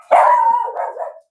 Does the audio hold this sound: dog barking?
yes